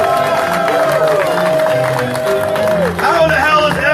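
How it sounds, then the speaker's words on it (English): A crowd at a political campaign rally claps and cheers loudly and continuously, with shouts and a voice mixed into the dense, close roar. "Give a round of applause to Sabo!"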